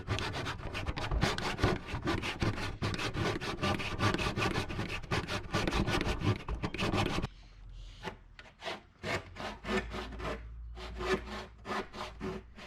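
A hand saw cuts through wood during a treehouse build, with fast rhythmic rasping strokes that then slow to separate pushes and pulls before the cut is finished. The sound is close and clear, and no one speaks.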